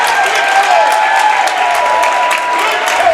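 A crowd at a high school varsity boys' basketball game between Portland and Oxford Hills bursts into loud, sustained applause after an officials' call, dense clapping filling the gym with a faint whistle tone underneath.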